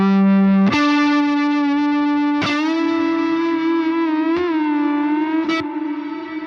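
Sustained electric tone drenched in a free reverb plugin that is neither plate nor room, long washy tails blooming after each attack, with four or five struck notes and bends ringing loudly over about six seconds and no voices.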